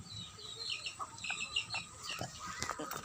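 Domestic ducks and chickens clucking in a rural yard on a cloudy, rain-threatened day, a scatter of short bird calls and clucks of moderate loudness over steady background noise.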